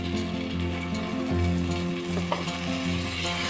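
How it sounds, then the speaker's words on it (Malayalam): Curd is stirred into a chili-spiced curry in a pan in a home kitchen, giving a steady sizzle with a continuous scraping, swirling stir throughout and no voices. "അത് നന്നായിട്ട് മിക്സാക്കി കൊടുക്കുക"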